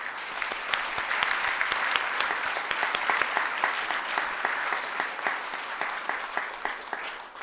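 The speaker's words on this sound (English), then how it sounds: "So if you please give another round of applause for my team as I get emotional." An audience claps at the Michigan Week Community Awards Breakfast on a college campus, individual sharp claps standing out within a sustained, moderately quiet round of applause that tapers slightly at the end.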